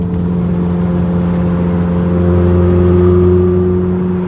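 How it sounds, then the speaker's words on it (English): Steady, loud exhaust drone of a 40-year-old Vauxhall Cavalier driving along a road beside a concrete barrier, a low constant hum with a slight swell midway, heard from inside the car with the window down. "you'll hear the exhaust."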